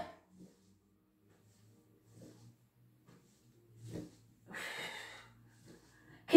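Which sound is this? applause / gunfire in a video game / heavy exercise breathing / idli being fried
heavy exercise breathing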